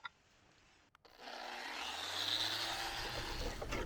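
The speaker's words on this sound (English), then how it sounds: "And then I'll replace my 80 grit with 120 and sand the deck again." An electric sander runs on a wood deck with 120 grit sandpaper after a couple of brief knocks, its broad rough buzz starting up and holding steady, close and fairly loud.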